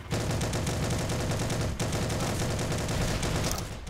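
Continuous automatic gunfire fills a Heroes and Generals match, with dense rapid bursts and echoing shots overlapping for the whole stretch, loud and steady with one brief dip.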